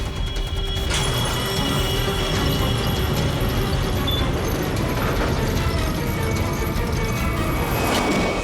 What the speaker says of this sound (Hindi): ये दरवाजा अपने आप बंद हो गया